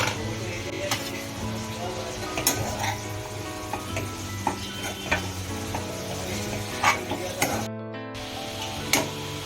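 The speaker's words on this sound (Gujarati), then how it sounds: "આપણે જરા એક વખત ઓપન કરીને એને હલાવી કાઢવાનું છે શાક." Radish greens and radish curry (mooli bhaji shaak) stirred in a pan, a close continuous sizzle with repeated scraping and clacking strokes of a spoon, fairly loud and steady over several seconds.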